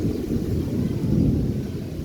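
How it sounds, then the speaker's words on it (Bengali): A low, continuous thunder rumble rolls from a cloudy sky ahead of rain, a dull distant roar that stays steady with no voices. "আর মেঘ ডাকছে বুঝছো দুই একটা ফোঁটা পড়তেছে"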